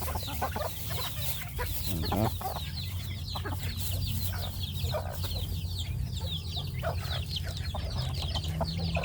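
Chickens cluck and squawk repeatedly over a steady low background hum, several birds calling close by throughout.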